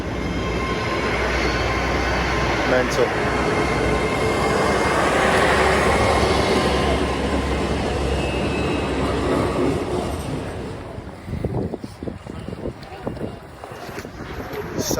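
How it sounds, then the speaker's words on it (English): A train rumbles steadily past nearby through the middle of Lincoln, with broadband roar and wind noise, fading after about ten seconds into street sounds and a brief spoken word. "Train goes through the middle of the town."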